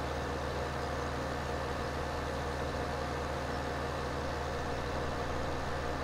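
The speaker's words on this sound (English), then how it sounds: "this tractor is a little bit louder than others" A tractor engine in the video game Farming Simulator 17 drones at a steady, loud, low-pitched idle, constant and unbroken throughout with no talk over it.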